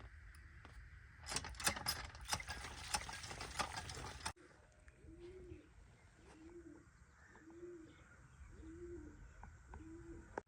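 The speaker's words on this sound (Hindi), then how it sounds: "कबूतर बेचारे जो हैं वो शोर मचा रहे हैं कि हमें बाहर निकालो" Pigeons coo in a steady run of low, rounded calls from inside an enclosure, about five evenly spaced coos near and clear, after a burst of loud clattering rustle at the start.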